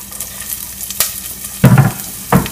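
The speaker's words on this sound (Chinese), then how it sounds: "我们把火开到中高火，然后在锅里面倒一点油，辣椒放进去，还有柠檬草" Chili and lemongrass frying in oil in a wok over medium-high heat make a steady crackling sizzle, broken by a few louder bursts of hissing and clatter as they are stirred.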